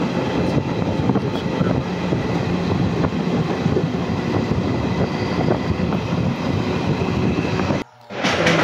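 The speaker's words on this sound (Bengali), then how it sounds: "আমাদের ট্রেন চলে চলেছে" Inside a moving passenger train bound for Sealdah, a loud, steady roar of wheels and carriage noise continues throughout, with a short sudden dip near the end before the rumble resumes.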